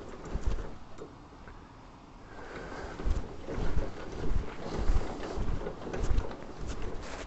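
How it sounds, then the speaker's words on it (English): Compressed air rushes out of a semi-truck's air ride suspension while the trailer is being unhooked from the tractor, a steady rushing hiss with gusty swells and no talking. "you can hear the air exhausting out of the thing"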